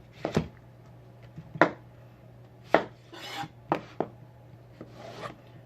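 A knife cuts thick slices of portobello mushroom on a board, about six sharp, close thuds spaced irregularly, some followed by a soft rasping drag, quiet and without talk.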